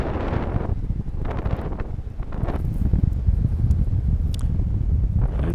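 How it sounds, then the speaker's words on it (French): A steady south-southwest wind of about 20 km/h buffets the microphone at a paragliding launch site in Champeaux, a loud low rumble that swells and eases in gusts, with faint rustling and nobody speaking. "on a un vent très sud, légèrement ouest"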